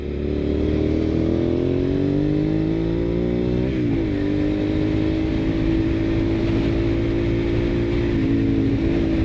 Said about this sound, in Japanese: じゃあ加速してみましょうか。